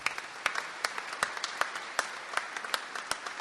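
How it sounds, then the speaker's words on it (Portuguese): Sparse applause at a tribute ceremony for a bar association president, a modest crowd clapping at moderate distance, with individual sharp claps standing out over a steady rattle. "pedindo também uma salva de palmas para o Ricardo."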